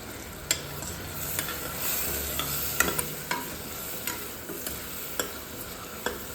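Spice masala with red chilli paste sizzles in oil for stuffed bitter gourd, a steady close hiss punctuated by regular sharp taps and scrapes of a spoon stirring in the pan, no talk.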